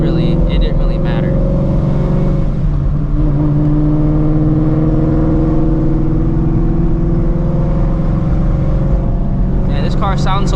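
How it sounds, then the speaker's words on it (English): A steady, loud supercharged Shelby GT350 engine drone from inside the cabin, humming continuously while someone talks over it. "this car sounds so much different"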